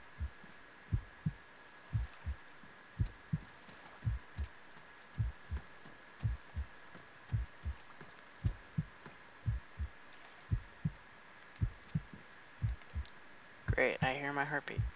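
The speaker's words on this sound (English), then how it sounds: "Great, I hear my heartbeat." A steady, slow in-game heartbeat from Arma 3 on Tanoa: regular paired low thumps repeat for about fourteen seconds under a faint hum, then a burst of other noise cuts in at the end.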